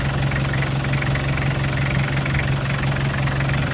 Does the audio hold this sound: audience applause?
no